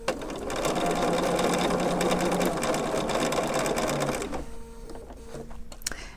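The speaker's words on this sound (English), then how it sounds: "it's not a whole bunch different than sewing a straight seam" A sewing machine stitches a curved quilt seam, a rapid steady mechanical whir for about four seconds before slowing and stopping, close and clear with no talk.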